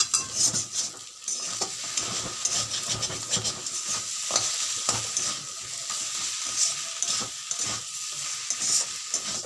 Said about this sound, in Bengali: এবার দিয়ে দেবো অল্প চিনি, আর দিয়ে দেবো অল্প ঘি, দিয়ে মিশিয়ে নেবো ভালো করে